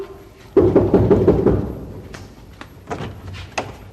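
Someone knocks on a house door in a quick run of about eight raps, followed a moment later by a few scattered louder thumps.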